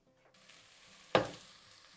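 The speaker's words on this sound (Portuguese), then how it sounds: "Aqui eu tenho um tomate e vou refogar aqui por mais uns 2 minutos." Diced, seeded tomatoes hit a hot pan for sautéing as part of a lasagna sauce, setting off a sudden loud sizzle that settles into a steady, quieter frying hiss.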